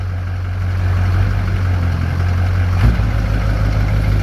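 A Duramax diesel truck engine idles steadily while warming up after a start, a low, even rumble held close and constant throughout, with one brief knock partway through and no talk.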